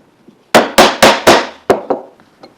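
A chisel is struck about five times in quick succession, sharp loud close knocks, followed by a couple of lighter taps while cutting a half-blind dovetail joint in wood.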